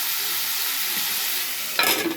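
Chicken and drumstick pieces being stirred in a frying pan, a loud steady hiss of sizzling close by, ending in a brief burst of scraping as the pieces are turned, no talking.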